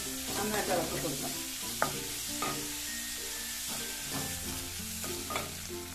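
Onions being stirred as they fry in a pan with a little salt, spoon scraping in repeated strokes over a steady close sizzle.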